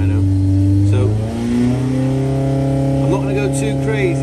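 A tuned car engine fitted with a Hartwell 410 cam and built to 1150 revs loudly on a dyno, holding a steady drone before the pitch climbs near the end, with a voice briefly heard over it.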